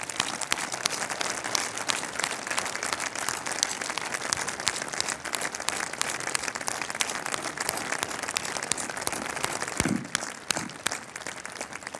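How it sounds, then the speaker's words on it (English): A large crowd of employees at a Reliance Jio launch event gives warm, sustained applause, dense steady clapping that fills the hall throughout. "let us give a very warm applause to Jio and Team Jio on this occasion"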